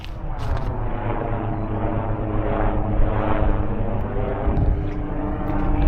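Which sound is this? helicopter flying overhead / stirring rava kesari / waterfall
helicopter flying overhead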